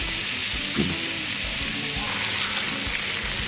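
Two ribeye steaks sizzle steadily in a hot cast iron enamel pot after the flip, with a constant loud frying hiss and a few faint pops underneath.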